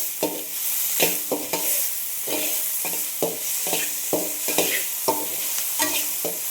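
Manathakkali (black nightshade) greens sautéing in a pan, a spatula scraping and stirring in a steady rhythm of repeated strokes over a continuous bright sizzle, close and fairly loud, with no voices.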